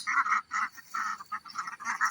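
Fourteen egg-laying ducks, some drakes with green heads among them, quack in a temporary pen, a run of short, nasal calls in quick bursts with brief gaps between them, fairly close.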